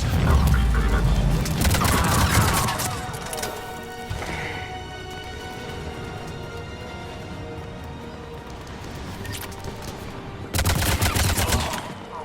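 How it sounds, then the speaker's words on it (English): Gunfire in a Mass Effect battle, with dense loud bursts of shots at the start and again near the end, separated by a quieter stretch of rumbling combat noise. "Under heavy attack. This is Phoenix 6. Taking fire."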